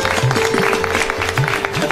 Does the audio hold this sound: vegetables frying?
no